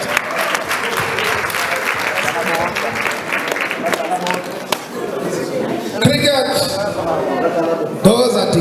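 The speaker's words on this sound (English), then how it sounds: "Can you stand up so that we give you a round of applause?" A crowd at a 2019 sports awards gala in Plettenberg Bay applauds loudly and continuously, with cheering and chatter mixed into the clapping.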